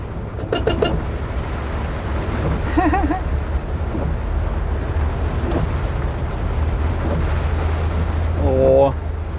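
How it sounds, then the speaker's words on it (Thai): Heavy rain pours steadily on a city street with a low rumbling roar, water flooding the footpath, and birds coo and chirp briefly over the downpour. "ฝนตกเปียกหมดเลย"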